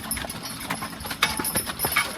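A young horse's hooves clip-clop at a steady walking pace while logging, crossing muddy ground, with close, distinct footfalls throughout.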